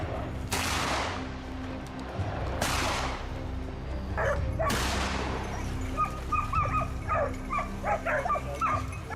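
Hunting dogs during a wild pig hunt, with three sharp loud barks spaced a couple of seconds apart, followed by quicker yips and whimpers over a constant background hum.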